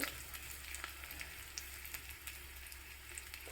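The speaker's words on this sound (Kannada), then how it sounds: "ಬೆಳ್ಳುಳ್ಳಿ ಮತ್ತು ಕರಿಬೇವು ಒಂದು ಅರ್ಧ ಒಣ ಮೆಣಸು ಈ ಒಗ್ಗರಣೆ ತುಂಬಾ ಇಂಪಾರ್ಟೆಂಟ್" Crushed garlic, curry leaves and half a dry chilli sizzling in hot oil as a tempering, a soft continuous crackle with scattered small pops, fairly quiet and with no voices.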